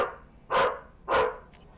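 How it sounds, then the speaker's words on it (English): A pet dog barks twice, close and sharp, about half a second apart, with a fainter third yip after, against a quiet room. "Apologies, my dog is an idiot."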